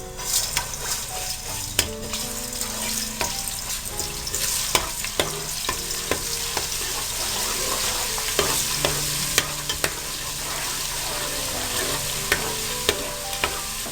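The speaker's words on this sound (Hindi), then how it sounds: "उसको गरम करें और उसमें 2 टेबलस्पून जिंजर गार्लिक पेस्ट डाल दें। उसको हल्का सा फ्राई करें।" Ginger garlic paste fries in hot oil for dal mash, with a loud, continuous sizzle. Frequent sharp spoon clanks and scrapes against the pan come through as it is stirred, with no talking.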